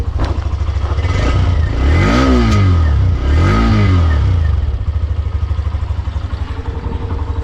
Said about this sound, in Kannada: ಸೊ ಸ್ಟಾರ್ಟ್ ಮಾಡ್ರಿ, ಈ ಥರ ಸ್ಟಾರ್ಟ್ ಆಗೈತೆ ಗಾಡಿ. ಹೆವಿ ಸ್ಮೂತ್ ಐತಿ, ಸೌಂಡ್ ಕೇಳ್ಬೋದು ನೀವು ಮಫ್ಲರ್ದು.